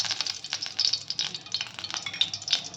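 Oil and a spoonful of ghee hit a hot pan for Maharashtra-style poha, bringing an uneven crackling sizzle that pulses and spits quickly and close throughout.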